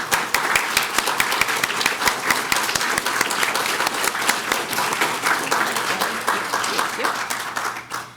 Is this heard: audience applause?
yes